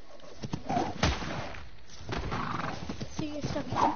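A zebra neighs in the ARK: Survival video game, whinnying in short bursts with soft hoof clip-clops, all under a voice talking.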